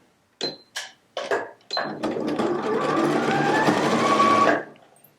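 A sewing machine stitches a jacket: a few short separate bursts, then one long steady run of whirring stitches for a couple of seconds that stops abruptly. It is close and fairly loud, with no talking.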